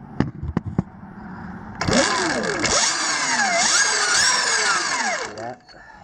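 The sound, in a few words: Sur Ron Light Bee electric bike throttle blip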